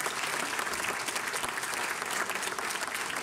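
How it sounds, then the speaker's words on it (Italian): A theatre audience at an amateur Sister Act musical production breaks into loud, sustained applause, a thick continuous wash of many hands clapping with no voices over it. "E di questo vi chiedo di fare un applauso a Pippo e a Nino."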